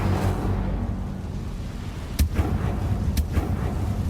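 An Incendio fire spell is cast in the Hogwarts Legacy video game, heard as a sharp crackling burst followed by another a second later, each cutting through a constant low rumbling background.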